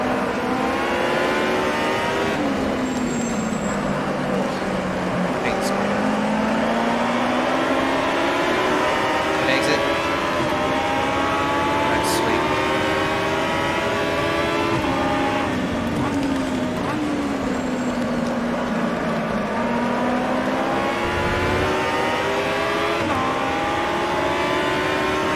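Aussie Racing Cars race at Winton in the Automobilista video game, with engines droning and rising and falling in pitch through gear changes, loud and continuous, as someone talks over them.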